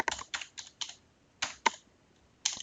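Keys clatter on a computer keyboard in a few quick bursts of typing, separated by short pauses, close and fairly quiet with no voices.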